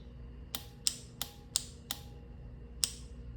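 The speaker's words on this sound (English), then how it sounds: "even though that starter relay is clicking away, it's not energizing between these posts" An ATV starter relay clicks six times, crisp and close, in an uneven rhythm over a quiet electrical hum, with one longer gap before the last click.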